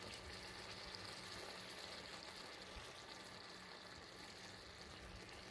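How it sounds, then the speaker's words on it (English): Chicken sauce with oregano simmering in a pan, a steady, soft bubbling hiss that runs evenly throughout without any talk. "Just let that simmer for a few minutes and give it a little shake."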